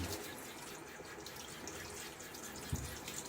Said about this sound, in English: take a minute to kind of rinse sides of the mug